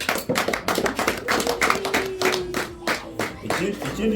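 Guests visiting a home are welcomed with a burst of hand clapping, brisk and fairly loud, carrying on for several seconds with a faint voice underneath.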